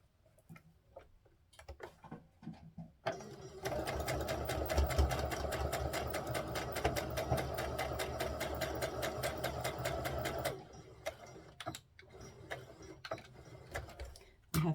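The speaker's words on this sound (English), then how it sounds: "we're going to sew up the back of the skirt" A sewing machine stitches the back seam of a doll's skirt in one steady run of rapid ticking lasting several seconds, with quieter handling sounds before and after.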